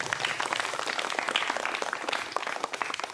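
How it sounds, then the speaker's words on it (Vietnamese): Quiet applause from an audience at a Vietnamese temple gathering honoring the abbot with novice monks, a few seconds of steady, distant clapping with faint voices mixed in. "Xin quý vị cho một tràng pháo tay để chào đón ạ."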